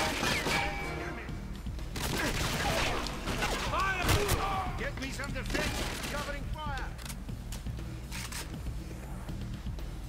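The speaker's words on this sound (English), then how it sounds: "Gotta use up the shotgun while I have a chance" In the game 007 GoldenEye Reloaded, a shotgun fires several sharp blasts, spread irregularly through the stretch and mixed with other busy in-game noise.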